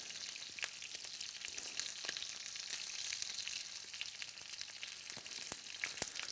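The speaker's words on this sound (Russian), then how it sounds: "обжаривание ножек на сковороде для придания им красивой аппетитной корочки" Duck confit legs fry in a pan for a crisp crust, giving a steady, close sizzle with scattered sharp crackles and pops throughout, with no talking.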